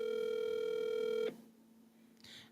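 An outgoing telephone call on a call-in morning show, with a steady ringback tone that cuts off abruptly partway through, leaving near-silence and then a brief faint rustle; no voices are heard.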